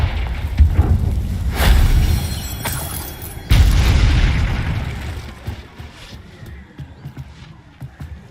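A Confringo blast spell in the Hogwarts Legacy video game: loud booming bursts, the heaviest around the middle, each trailing into a rumbling decay that fades to quieter ambience.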